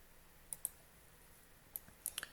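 Several crisp mouse clicks, one pair early and a quick cluster near the end, sound against near silence while confirming a step in 3D modeling software for a wireless charger design.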